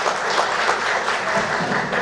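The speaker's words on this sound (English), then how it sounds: "let's give them a big round of applause, everyone" Audience applause at the Animal trailer launch event in Bengaluru, a steady dense wash of clapping that holds at an even level from start to finish with no voices breaking through.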